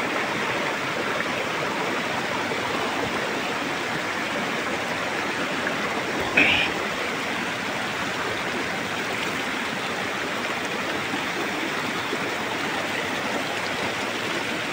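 Hot spring water flowing steadily along a trek on Mount Gede, a loud, close, continuous rushing wash with one brief splash midway.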